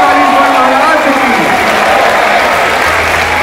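Concert crowd at a live show in Ujjain breaks into loud sustained applause with some cheering, close and dense, with a voice partly over it.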